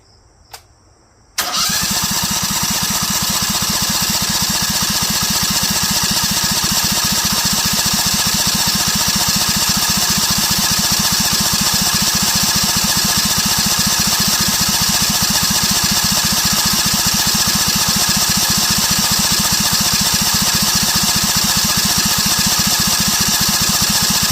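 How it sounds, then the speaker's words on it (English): A DuroMax XP23HPE portable generator engine, choke held, cranks to prime the fuel line, catches after a brief moment of quiet, then runs loudly and steadily with a rough, buzzing drone. "it's gonna have to crank for a sec to prime the pump and prime the fuel line"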